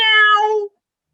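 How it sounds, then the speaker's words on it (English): A cat lets out a single clear meow, close and loud, lasting under a second before silence. "the mouse heard a meow"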